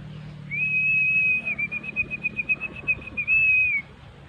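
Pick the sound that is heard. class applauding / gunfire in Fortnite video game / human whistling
human whistling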